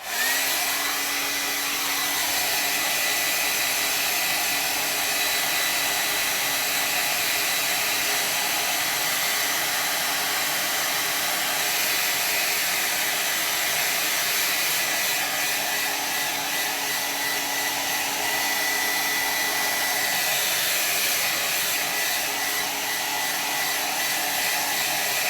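A hair dryer blows steadily over a watercolor autumn landscape painting, a loud continuous whooshing whir that holds nearly unchanged from start to finish with no talking.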